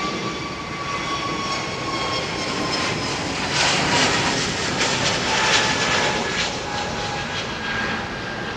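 Airbus A330neo jet with Rolls-Royce Trent engines at London Heathrow, runway 27R, producing a steady, loud roar that swells in the middle and holds throughout, with a faint high engine whine running through it.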